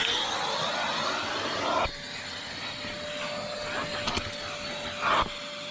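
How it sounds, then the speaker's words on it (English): A vacuum cleaner runs inside the interior of a GR Sport car, a loud, steady whining drone that shifts in tone as the nozzle moves, with occasional knocks and no talking. "I'm going to hoover the inside of the car out"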